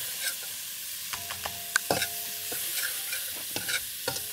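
Garlic fries in a pan while a utensil stirs it, with sharp scrapes and clinks sounding over a soft, steady sizzle.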